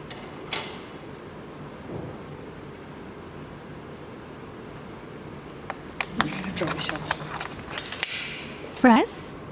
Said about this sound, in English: Press Cut button to start cutting a new key.